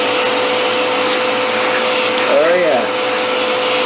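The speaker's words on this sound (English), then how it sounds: "Let's start up my vacuum cleaner and start vacuum cleaning all the dirt and debris out of this car." A vacuum cleaner runs loud and steady, sucking dirt and debris out of a flood-damaged Hot Wheels toy car, its whine shifting briefly as the nozzle works, with a short spoken remark over it.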